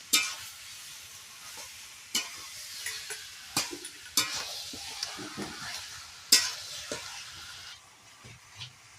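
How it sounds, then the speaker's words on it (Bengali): Chunks of meat sizzle and fry in a kadai while a utensil stirs them, giving repeated scraping strokes over a steady crackle, close and fairly loud with no talking. "এদিকে এখন মাংসটা ছাড়া হচ্ছে কড়াইতে"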